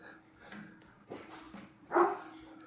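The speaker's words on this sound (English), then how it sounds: "Or was my dog barking?" A single dog bark sounds near the end, fairly close, after a stretch of quiet room noise.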